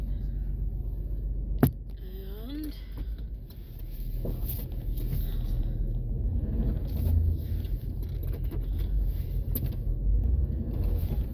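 A 2003 Jeep Liberty rolls slowly across a gravel parking lot in four-wheel drive, giving a low, steady engine and road rumble with wind noise and a single sharp knock near the start.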